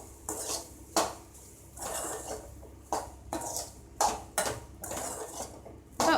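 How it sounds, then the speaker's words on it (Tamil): Cooked rice and mushroom being mixed in a pan with a spoon for a lunch-box rice dish, close repeated scraping and clinking strokes against the metal pan, about one stroke per second. "அதை கொஞ்சம் கொஞ்சமாக சேர்த்து நல்லா கலரிடுங்க"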